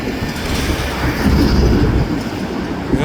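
A train rolls past an overpass near Trapp Yards rail yard in New Westminster on the Southern Railway of British Columbia, with a dense continuous rumble and clatter of wheels that swells in the middle and stays loud throughout, no talking.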